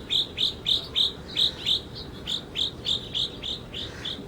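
Birds chirp in a hummingbird garden, a steady series of sharp, high tweets repeating about twice a second over a soft outdoor hiss, with no talking.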